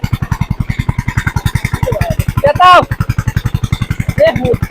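A running motor machine thumps with a steady rapid pulse, loud and close, while voices shout over it and someone makes brief whooping calls.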